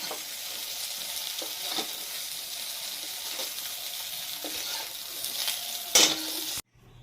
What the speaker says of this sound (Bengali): এখানে গরম মশলা, শুকনো লঙ্কা আর জিরা সম্বরা দিলাম